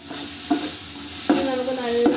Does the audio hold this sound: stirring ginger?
yes